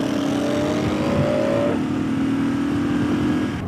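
A motorcycle engine revs up for a small wheelie, a rising whine that climbs, drops as the gear changes, then climbs again, fairly loud over steady road and wind noise.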